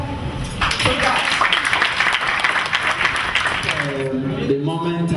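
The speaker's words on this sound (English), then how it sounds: "Let us clap for that." An audience at an initiative launch event in Africa breaks into loud, sustained clapping after a brief spoken opening, with a voice resuming over the fading applause near the end.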